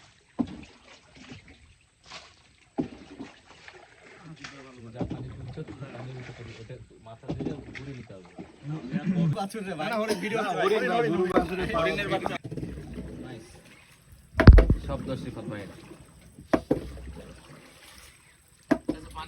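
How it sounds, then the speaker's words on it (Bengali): A boat speeds across open water, its engine and hull noise rising and falling with the rush of water and wind while people talk aboard throughout. "ভালোই জোরে যাচ্ছে নৌকা, নৌকার স্পিড উঠছে।"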